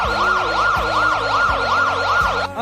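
A loud ambulance siren wailing up and down in a steady, rapid cycle, close and continuous, with a low rumble beneath.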